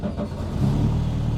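Rally car engine cranking and catching, a dense low rumble that swells into a steady idle roar partway through, close and loud with no talk.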